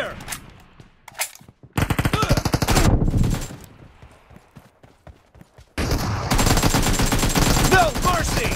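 Rapid AKM rifle bursts from the PUBG Mobile shooter in team deathmatch, loud clustered automatic fire with short gaps and a long sustained volley near the end.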